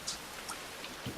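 Steady rain falls in a modded video game world as a faint, even hiss of patter, with a few soft ticks of drops standing out and no voices.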